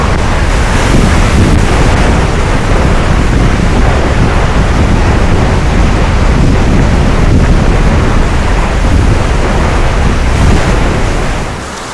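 A waterfall in East Java crashes down in a loud, continuous roar, close and unbroken, with wind buffeting the microphone.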